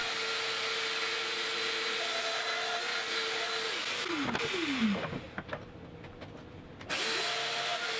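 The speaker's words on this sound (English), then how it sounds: "here I am cutting the Domino mortises in the table aprons" A Domino joiner cuts mortises for 8mm by 50mm loose tenons in walnut table aprons, a loud continuous motor whine that dips and shifts as the cutter plunges, then drops off briefly before resuming, close up.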